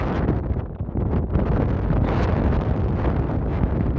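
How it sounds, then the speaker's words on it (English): Strong wind on top of Sittaford Tor, Dartmoor, buffets the microphone in a constant loud roar, gusting throughout with no voices. "Boy, is it windy here!"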